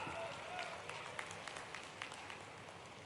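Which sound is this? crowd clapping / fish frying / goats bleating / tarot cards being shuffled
crowd clapping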